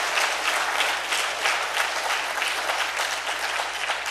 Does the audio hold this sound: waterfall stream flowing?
no